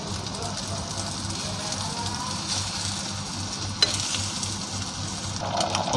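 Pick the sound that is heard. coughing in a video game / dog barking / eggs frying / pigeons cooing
eggs frying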